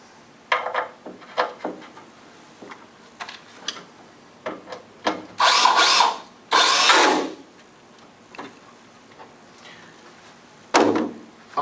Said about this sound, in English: Now I want to screw through it.